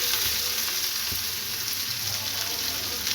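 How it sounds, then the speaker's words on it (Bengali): Onion frying in a pan of oil tempered with cumin seeds, dried red chillies and bay leaf, a steady close hiss of sizzling with a soft stir or tap partway through, no voices. "এই যে এবারে পেঁয়াজটা দিয়েছি, পেঁয়াজটা দিয়ে একটু ভেজে নেব লাল লাল করে"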